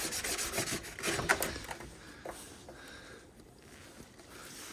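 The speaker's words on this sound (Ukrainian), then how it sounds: "Обов'язково обезжирюємо, щоб краще було, щоб краще приліпився клей." A cloth rubs over cracked plastic to degrease it before gluing, making repeated scratchy swishing strokes, louder and busier at first, then thinning to softer, sparse rubs.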